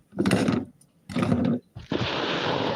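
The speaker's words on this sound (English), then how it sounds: "And I'm just going to empty this into, you're going to hear it sizzle." After a couple of short clattering bursts, a steady loud sizzle of spinach hitting a hot pan takes over and continues.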